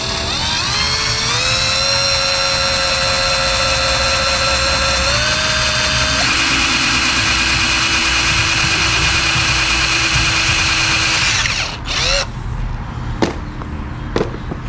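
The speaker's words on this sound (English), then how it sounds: "I've got a 1/4 inch drill bit that I'm putting through here." A power drill with a 1/4 inch bit bores through plastic on an e-bike, giving a loud, steady high whine that climbs in pitch in steps, then cuts out, followed by a few short bursts.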